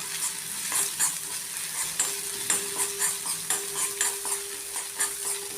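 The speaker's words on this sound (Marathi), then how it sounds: "त्याच्यामध्येच आपण एक हळद घालून घेऊ, थोडी धनेपूड घालू 1 चमचा। हे छान परतून घेऊयात।" Turmeric and coriander powder sautéing in a pan as the tempering for vada pav, with a soft continuous sizzle and regular scraping stir strokes repeating roughly every half second, close and moderately quiet.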